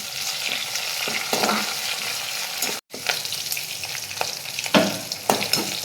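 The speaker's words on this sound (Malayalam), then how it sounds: "അപ്പോൾ കടുക് പൊട്ടാൻ തുടങ്ങിയിട്ടുണ്ട്." Mustard seeds, fenugreek, green chilies and curry leaves fry in hot oil, giving a loud, close, continuous sizzle with crackling pops and bursts of spitting, broken by one brief dropout.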